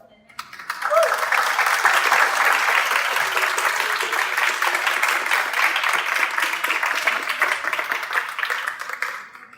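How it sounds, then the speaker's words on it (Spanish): Sustained applause from a conference audience at La Salle, rising quickly and holding steady as a dense, even wash of clapping for nearly ten seconds before tapering at the end. "Un aplauso."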